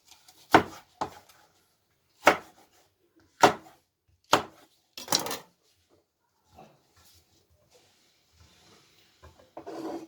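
A knife cuts through two red kapya peppers on a board, about six sharp, separate chops spaced a second or so apart, close and clear, with quiet handling sounds between them.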